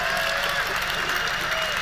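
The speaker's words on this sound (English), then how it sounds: "I've never heard so many people applaud an evasion of a simple question." Audience applause at a debate, dense steady clapping that fills the whole short stretch, with a faint voice mixed underneath.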